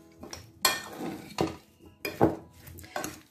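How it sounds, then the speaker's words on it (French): Potatoes tossed with oil and paprika in a baking dish get stirred with a utensil, giving several scraping, clinking strokes at an uneven pace, close and moderately loud with no voices. "Je mélange."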